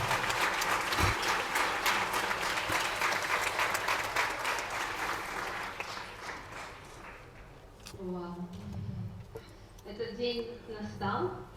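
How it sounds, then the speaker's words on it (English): A hall audience at the IDEC 2019 opening applauds the event organizers with loud, sustained clapping that fades after several seconds, and a speaker's voice then comes in over the tail of the applause. "So let us give them a round of applause."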